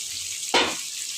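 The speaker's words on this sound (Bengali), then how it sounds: "শুটকিটা তেলে ভেজে নিই" Dried fish (shutki) drops into hot oil with a sudden loud sizzle that flares up and fades back into a steady quiet frying hiss, close by.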